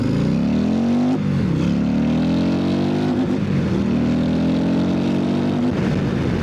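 A built Harley-Davidson 135 CVO motorcycle engine revs hard and loud up close, with deep rising throttle sweeps that drop back and climb again several times.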